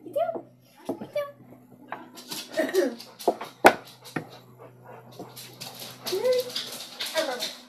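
Pet dogs whimpering and giving short yips at a grandmother's house, several high whines rising and falling throughout, close by, mixed with someone talking to them.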